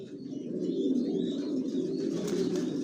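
A chocolate mealy racing pigeon squab of Johnson line coos in a loft, a soft, low, continuous warbling close by that carries on steadily, with faint higher chirps over the top.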